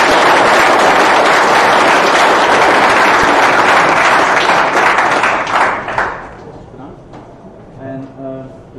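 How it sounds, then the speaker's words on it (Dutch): Loud, dense audience applause after a talk introducing GraphQL at a Dutch tech meetup, sustained for about six seconds before thinning into scattered claps and quiet voices. "Dus ik denk eerst even applaus voor Maurits."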